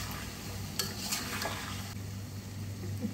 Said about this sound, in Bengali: এখন জাস্ট 10 মিনিটের জন্য এটাকে আমরা একটু কষাবো